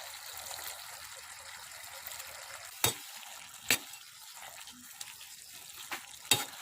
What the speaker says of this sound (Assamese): তিয়হখিনি এনেদৰে ভাজি থাকিব।